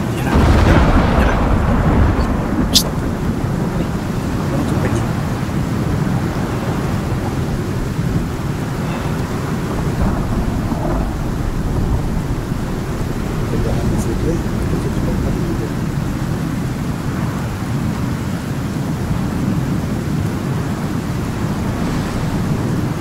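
Steady roaring storm wind in the game Icarus, a dense, continuous low rumble like surf or distant thunder that holds at a constant loud level throughout, with a brief crack near the start.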